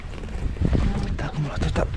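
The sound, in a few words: wind on a lake while fishing from a boat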